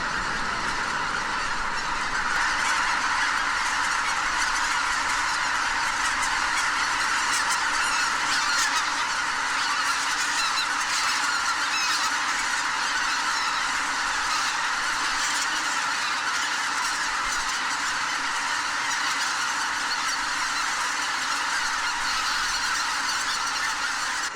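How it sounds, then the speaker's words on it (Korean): A huge flock of tens of thousands of wild geese honks continuously while taking off at dawn in Cheorwon, a dense, overlapping clamor of many birds that stays loud and steady throughout. "뒤질세라 일제히 박차고 날아오르는 수만 마리의 기러기떼들"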